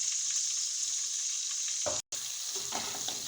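Green chillies and ginger fry in oil as the masala base for a fish biryani gravy, a steady close hiss with a brief cut partway, then stirring clatter as the sizzle continues.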